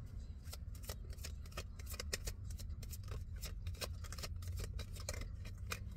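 Tarot cards being shuffled by hand, a run of quick crisp riffling flicks and snaps repeating steadily over a low steady background hum, fairly close and with no talking.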